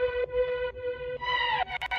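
Diva synthesizer patch run through a Guitar Rig jazz amp with chorus and spring reverb, sustained harmonic tones in short phrases, a gliding swell midway and brief stabs at the end, played alone.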